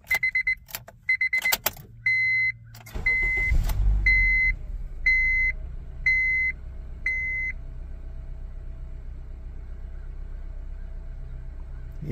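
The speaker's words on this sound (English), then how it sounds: "Let me start the car again." A 2007 Honda Civic being started: a rapid series of dashboard chimes, a cranking burst, then the engine catching and settling into a steady low idle with repeated warning beeps fading over it.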